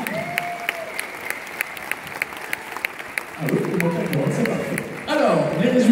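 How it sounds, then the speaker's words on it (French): An audience at the Miss Picardie 2015 pageant applauds painter Nico Tab, with loud, sustained clapping from a crowd heard alongside a voice over a sound system, swelling louder toward the end. "Vous pouvez encore applaudir bien fort Nico Tab qui est avec nous."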